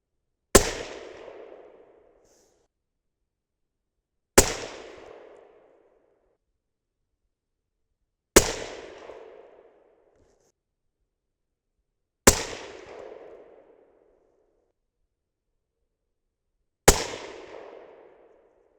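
Five sharp rifle shots from a 6.5 Creedmoor firing 140gr Hornady Match BTHP handloads with RL26 and RL17 powder, evenly spaced about four seconds apart, each a loud crack followed by a short rolling echo, with no talking.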